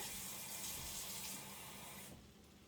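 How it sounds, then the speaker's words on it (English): Water pours steadily into a pan of simmering taco meat on the stove, a close, continuous rushing splash that thins out and fades near the end, with no talking. "I'm going to add 2/3 water to that."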